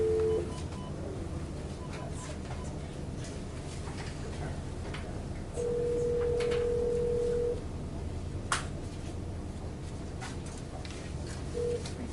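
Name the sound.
telephone call being connected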